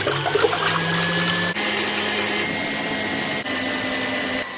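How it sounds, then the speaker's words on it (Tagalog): An electric mixer whipping egg whites for chocolate mousse, a steady close motor whir with a constant tonal hum and busy whisking texture, continuing without pause throughout with two brief dips. "Ilagay natin ang white egg sa machine. I-mix natin."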